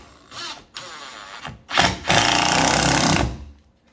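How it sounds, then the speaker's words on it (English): A power drill drives a Phillips screw into a door hinge while a door's hinges are replaced, with several short whirring bursts separated by pauses, the longest run sustained near and loud. "try to get this screw to go in at this direction"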